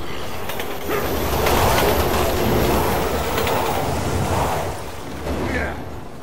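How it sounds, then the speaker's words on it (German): In the Resident Evil 6 video game, a train pulls into a station, rumbling steadily with clattering and a brief squeal over about six seconds, fairly loud and without talk. "ein Zug kommt!"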